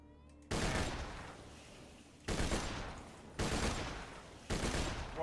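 Four loud, booming sniper rifle shots in Borderlands 2, each a sharp blast with a long reverberant decay, spaced about a second or two apart with no talk.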